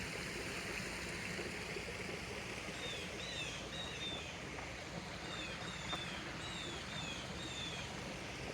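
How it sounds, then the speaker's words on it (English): Water flows out of a pool at the Edsel and Eleanor Ford House on Lake St. Clair, a faint steady rushing stream with bird calls chirping over it. "there's where the water coming out of the pool"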